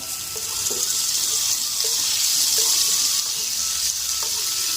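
Chopped tomatoes frying with eggs in a pan for egg attu, producing a loud, continuous close sizzle with occasional stirring scrapes and no speech.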